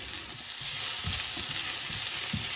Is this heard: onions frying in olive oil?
yes